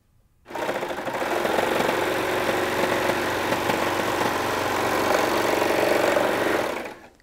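Sewing machine running steadily while stitching a t-shirt sleeve to the body in one continuous pass, a fast, even mechanical hum that holds loud and unbroken for several seconds.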